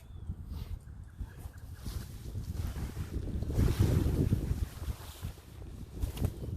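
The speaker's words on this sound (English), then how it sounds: "I got just a little bit of a breeze going here today" Steady outdoor breeze gusting against the microphone beside a tarp shelter, a continuous low rushing that swells louder around the middle and eases off, with no voices.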